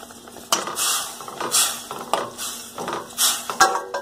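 A metal lid clatters and scrapes onto a cooking pot of simmering vegetables, several bright clanks and rattles in quick succession, close and fairly loud.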